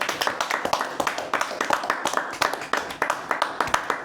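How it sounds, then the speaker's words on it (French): Friends applaud the winning team, The Dogs, after a football quiz between mates: a steady run of close, quick hand claps from a small group, fairly loud, with some talk mixed in. "Vous pouvez vous applaudir, les gars."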